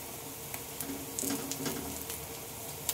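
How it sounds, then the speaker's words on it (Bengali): Jute leaf fritters frying in hot oil, pressed down with a spatula, give a steady close sizzle with scattered crackles and small pops throughout, no voices. "তো চলো এখন আমি এগুলোকে ঠিক এইভাবে ভেজে নেব"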